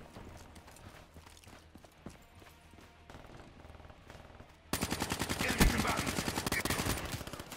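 Rapid automatic gunfire in the video game Call of Duty Black Ops 3: quieter bursts of distant shots give way to a loud, sustained close stream of rounds, with no talk.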